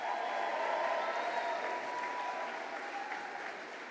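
Crowd applause at a Robert F. Kennedy Jr. political rally in Colorado, a steady wash of many hands clapping in a large space, sustained and gradually tapering slightly, with no voices on top.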